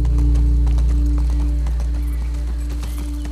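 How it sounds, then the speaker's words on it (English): Horses' hooves clip-clop steadily in The Last of Us Part 2 as riders move toward a settlement, a rapid loud clatter over a constant low rumble of game ambience. "The brothers, Tommy and Joe, riding the horses."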